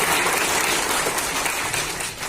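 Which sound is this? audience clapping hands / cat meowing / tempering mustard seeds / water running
audience clapping hands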